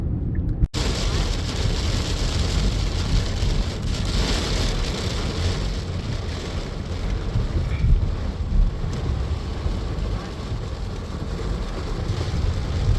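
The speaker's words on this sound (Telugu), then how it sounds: "బయోమెట్రిక్స్ వెళ్తుంటే వాన పడుతుంది" Rain falls outdoors on the way to a biometrics office, a steady broadband hiss mixed with wind buffeting the microphone, continuous and fairly loud throughout.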